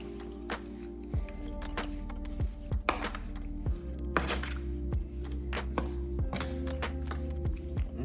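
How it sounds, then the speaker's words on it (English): Peaches tossed with cinnamon and sugar make repeated wet squishing and tapping sounds, with irregular knocks and thunks of the utensil against the bowl, close and fairly loud, with no talking. "Then you want to mix it. Mix it well."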